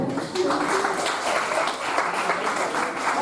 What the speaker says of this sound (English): I think they need a bigger round of applause.